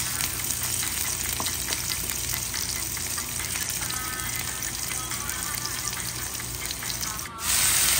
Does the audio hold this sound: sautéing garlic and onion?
yes